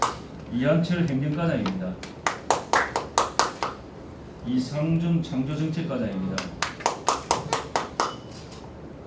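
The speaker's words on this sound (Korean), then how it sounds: "자연스럽게 또 박수로 환영해 주시기 바라겠습니다" Council members in a county council plenary session clap in short bursts to welcome officials being introduced one by one, sharp hand claps alternating with a voice announcing names.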